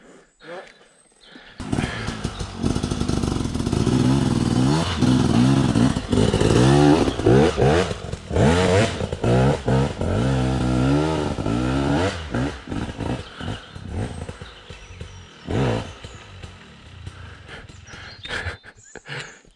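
A motorcycle just converted from fuel injection to a carburetor revs loudly and close for about eighteen seconds, its engine note rising and falling in repeated throttle blips before tapering off.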